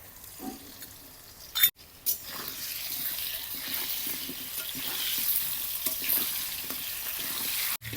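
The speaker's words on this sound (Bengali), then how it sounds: "তেল গরম হয়ে গেছে, আলুটা শুধু লবণ দিয়ে ভালো করে ভাজে নিব।" Potatoes frying with salt in hot mustard oil, a bright continuous sizzle that swells after a couple of sharp clunks as the food goes in, with scattered stirring sounds, close and fairly loud.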